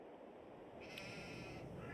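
A sheep bleats once in a short, sustained call from a moderate distance on a farm where sheep are being moved, set against steady outdoor background noise, with no talking.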